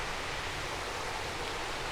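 Castle Clough waterfall in Lancashire pours as an even, broadband hiss of rushing water, constant and fairly faint, with no voices over it.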